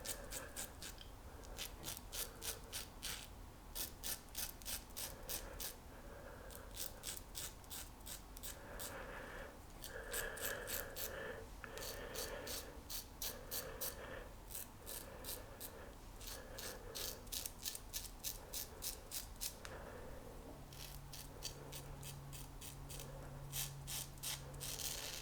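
An 18k gold plated double-edge safety razor, a J.F.K Presidential replica of moderate aggression, scrapes through lathered stubble in repeated close strokes, each a rapid crisp rasping burst with brief pauses between passes.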